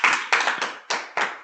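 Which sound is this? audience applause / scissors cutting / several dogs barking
audience applause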